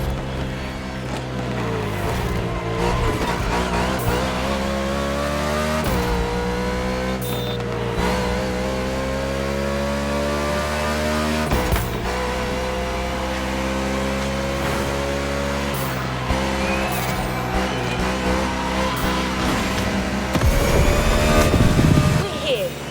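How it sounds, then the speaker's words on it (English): Bugatti Veyron and La Voiture Noire supercars driving in a racing video game, a steady engine drone with shifting revs and tonal gear changes running continuously, joined by game music, with a louder surge near the end. "Two Bugattis that push the manufacturer's boundaries to new horizons. The Bugatti Veyron and La Voiture Noire."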